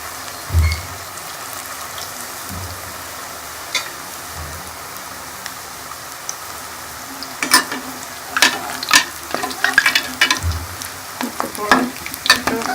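Vegetable pakora frying in hot oil at home, a continuous sizzle with bursts of bubbling and crackling that grow busier and louder toward the end, plus a few low soft knocks near the start.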